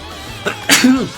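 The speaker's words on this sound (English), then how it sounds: "Big old sneeze." A single loud sneeze from a man, close to the microphone, with a short sharp burst and a brief vocal tail, during a Mario Kart 8 Deluxe session.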